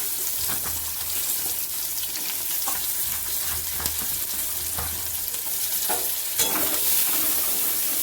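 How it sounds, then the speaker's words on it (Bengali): Onions sizzle and crackle in hot oil in a wok with five-spice seeds, fried for a fish recipe. The steady frying hiss carries on throughout, broken by occasional scraping stirs, and no one speaks. "ভালো পেঁয়াজটা ভাজা হয়ে গেছে।"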